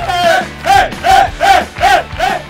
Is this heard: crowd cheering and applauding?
yes